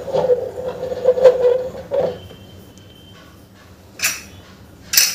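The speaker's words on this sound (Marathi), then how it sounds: "कुकरचं झाकण आपल्याला लावून द्यायचं आहे" A pressure cooker lid is fitted onto the pot while cooking tondali bhat: metallic clatter and scraping at first, then two sharp clanks of the lid a second apart after a quiet pause.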